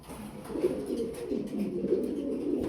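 Pigeons on a farm, kept for breeding, coo in low, overlapping murmurs that roll on steadily and close by, with no voices.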